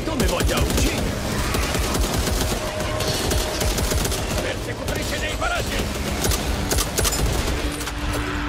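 Rapid gunfire in the zombie shooter game Back 4 Blood, dense automatic bursts and shots running continuously and loud throughout, with explosions and game noise mixed in.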